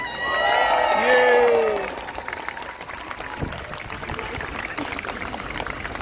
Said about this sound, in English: let's give a massive round of applause for the non-Muslims here today